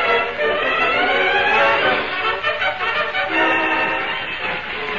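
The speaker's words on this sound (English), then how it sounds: "The train stopped at Red Rock." A train in an old Lone Ranger radio drama rumbles loudly and steadily as it pulls to a stop at Red Rock, a harsh, noisy roar with tonal whistle-like streaks running through it.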